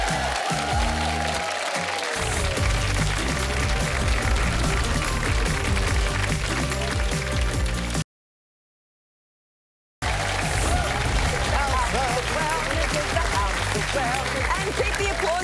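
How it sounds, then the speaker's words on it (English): Studio audience applause on a television lifestyle show as a comedian comes on, sustained clapping and crowd noise mixed with music, with a short gap of silence in the middle. "And keep the applause going"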